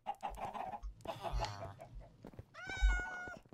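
Cats meowing in Minecraft, a few separate short calls close by, with one longer, clearer meow near the end over a faint clucking background.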